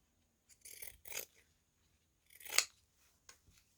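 Scissors cut through a paper strip in three short, crisp snips spaced over a few seconds, close and clear with no talking, while making a layered ephemera pocket from paper and lace.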